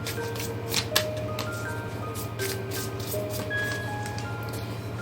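Tarot cards being shuffled in a quiet room, with soft, repeated riffling and flicking over a low steady hum.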